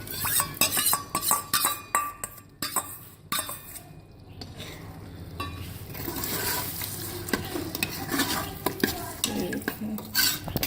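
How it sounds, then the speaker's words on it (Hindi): Mutton tripe in a pot, with tomatoes and yogurt added, gets stirred hard: rapid metallic clinks and scrapes of a spoon against the pan, then a louder, continuous sizzle as it fries. "अब मैं इसमें टमाटर डाल रही हूँ, और मैंने अब इसमें दही डालनी है।"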